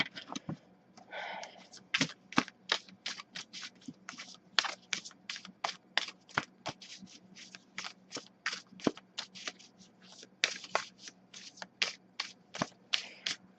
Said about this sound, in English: This deck is also actually kind of hard for me to shuffle it.